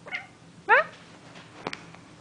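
A cat meows a few times, close and fairly quiet, with a short sharp yowl standing out among softer calls.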